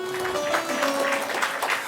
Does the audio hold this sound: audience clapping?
yes